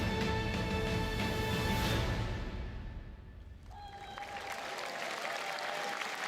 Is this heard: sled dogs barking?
no